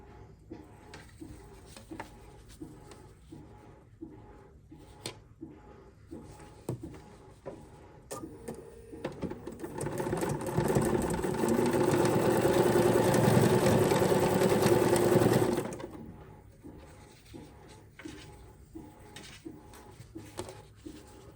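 Sewing machine running continuously for several seconds as it stitches fabric potholder rows together, a steady mechanical whir that rises in the middle and stops abruptly, with quieter handling clicks before and after.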